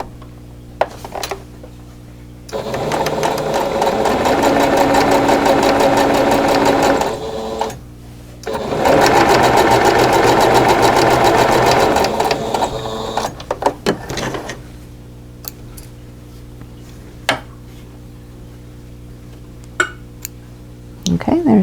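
A sewing machine stitches quilt patches together for a winged four-patch block, running in two long, rapid, whirring bursts of about five seconds each, close, with brief pauses, light handling clicks and a low hum around them.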